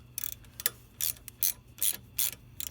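A ratchet wrench clicks in short quick bursts while loosening the rear set bolts on a V9 Bobber motorcycle, the close, crisp pawl rattles coming in uneven strokes with brief pauses between them.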